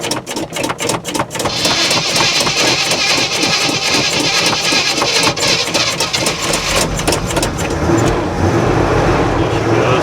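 A truck's heavy 4BT diesel engine, unused for a week, cranks in the cold with rapid rhythmic chugging, rising into a continuous loud roar as it catches and runs, close by.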